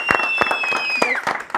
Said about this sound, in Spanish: Recibámoslo todos con un fuerte aplauso